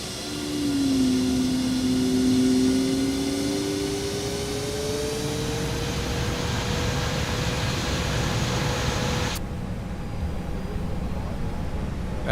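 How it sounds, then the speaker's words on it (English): Airbus A321neo jet engines in X-Plane 12, a steady loud whine and roar with rising tones as thrust builds on the runway, cutting off sharply near the end. "you have got to hear the engine sound"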